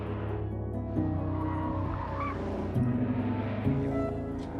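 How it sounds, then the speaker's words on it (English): A Shelby Cobra sports car engine roars past, loud, with a strong harmonic drone that climbs and steps through several gear changes as the car accelerates away. "That's the sound of the quickest production sports car in the world today,"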